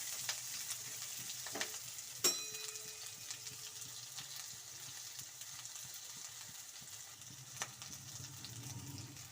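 Chopped onions frying in a pan for a sprouted-bean curry, a faint, continuous low sizzle with occasional soft clinks and stirring taps.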